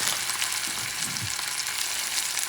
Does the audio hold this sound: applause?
no